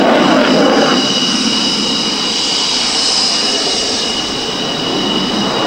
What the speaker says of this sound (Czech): A vracíme se k letounu Dassault Breguet Mirage 2000.